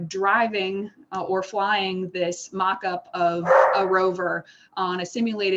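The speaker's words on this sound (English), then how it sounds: "I apologize if you can hear my dogs in the background" Dogs at home bark intermittently in the background, faint and partly buried under steady close talking.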